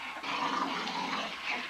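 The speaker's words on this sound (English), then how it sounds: "Got a mad dog wild in the house" A dog growls indoors in a house, a rough, continuous rumble that stays close and steady throughout, with no talking over it.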